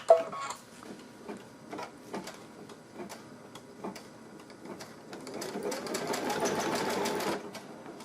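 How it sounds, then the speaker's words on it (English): An embroidery machine, slowed way down, sews a tack stitch on ribbon: slow, evenly spaced needle ticks, then a denser run of rapid stitching near the end. "it's just going to do a little tack stitch down here. I have my machine slowed way down as well"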